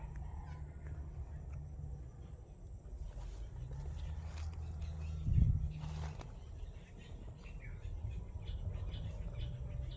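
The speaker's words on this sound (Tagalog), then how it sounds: "Ang dami namang ibon dito." Birds call outdoors, faint and scattered over low background rumble, with one louder thump partway through.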